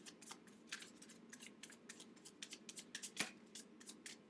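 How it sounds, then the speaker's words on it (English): Tarot cards are shuffled by hand in a quiet room: a soft, quick series of papery snaps and flicks, close and fairly faint, with no talking. "One more shuffle."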